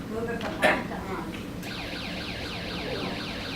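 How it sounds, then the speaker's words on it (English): An alarm triggered by an electromechanical switch sounds after a brief click, starting as a steady repeating warbling electronic tone and continuing evenly at moderate volume. "the electric current is flowing. Yeah, and we can hear the alarms"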